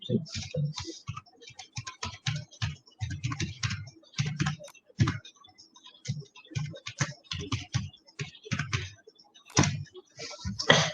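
Computer keyboard keys tapped in quick irregular bursts as an ID and password are entered, crisp and close, with short pauses between runs of keystrokes.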